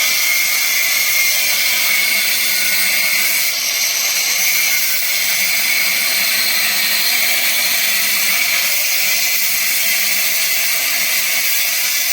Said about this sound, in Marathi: थोडासा कापून घेऊया ग्राइंडरनी हे पाईप